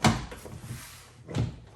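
Two dull thumps as a rear door panel is set into its track on a 2007 Honda CR-V during a lock actuator repair, a short knock at the start and another a second later.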